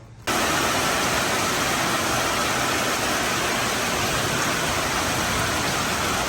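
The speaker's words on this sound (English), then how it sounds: "Well, the rains are here" Steady rain falls in a dense, even broadband wash that stays loud and unbroken from start to finish, with no voices over it.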